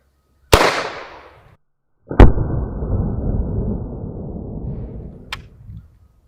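Two sharp gunshot reports, each followed by a decaying rumble, with a fainter third crack near the end during a test of shots with case ejection.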